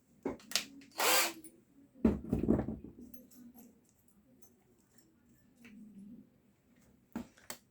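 A JPT 21V cordless drill driving a 1.5 centimeter screw with a bit, heard as a few short whirring bursts separated by pauses, the longest near the start, in a quiet room with no talking.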